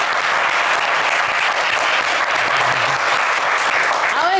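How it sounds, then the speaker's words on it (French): Studio audience applause on a French television game show, a loud, steady wash of many hands clapping continuously throughout, with no talk over it. "On peut vous applaudir très fort."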